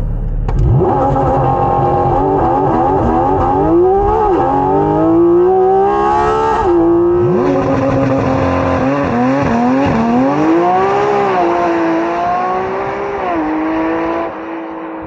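A high-revving Porsche Cayman GT4 RS engine, heard from inside the car, climbs through the gears, shifting and winding up repeatedly, loud and continuous throughout.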